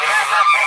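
A domestic goose by its nest gives a short burst of loud, nasal honking, close to the listener and heard alone.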